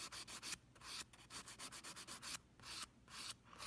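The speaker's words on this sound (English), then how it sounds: "When we're filing the cuticle area, I'm literally only using this little teeny tiny edge of the file" Nail file rubbing across an acrylic nail at the cuticle area, a quiet run of short rhythmic scraping strokes in quick bursts with brief pauses between them, close and alone.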